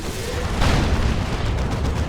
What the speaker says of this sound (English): That's a Demolisher Cannon.